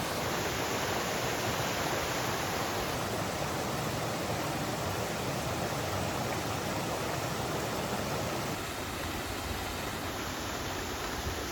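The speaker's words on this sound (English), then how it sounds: "Another mini hidden waterfall." A small hidden waterfall beside a hiking trail in Shenandoah National Park pours in a continuous broad rushing hiss, steady and close, with no other sounds.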